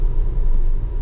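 Steady low rumble of a Tesla electric car cruising on the road, with a continuous close-up hum of road and tyre noise and no voices.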